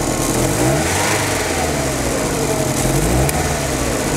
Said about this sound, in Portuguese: O carro não tem aceleração rápida